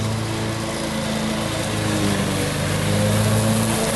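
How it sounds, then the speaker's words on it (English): A lawn mower drones steadily nearby, its engine humming at a constant, loud pitch while cutting grass without pause. "he had to mow the grass"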